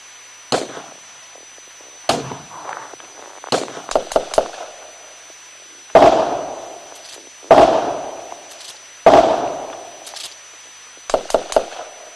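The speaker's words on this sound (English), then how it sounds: "Dispatch, I'm hearing gunfire." Sound-effect gunshots in an audio drama, a series of sharp loud cracks with reverberant tails, some single and some in quick bursts of two or three, spaced a second or two apart, with no talking.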